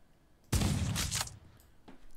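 One sudden loud gun blast in the Old West survival game Outlaws of the Old West, with a broad crack that rolls on into a short echoing tail before fading.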